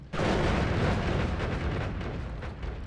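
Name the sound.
chain bolt spell destroying things in the video game Noita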